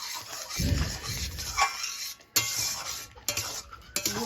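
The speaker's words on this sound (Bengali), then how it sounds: "নেড়ে চেড়ে নামিয়ে নেব" Cooked, softened dal is stirred in a pot with a utensil, giving scraping and clinking strokes with brief pauses between them, close by and without speech.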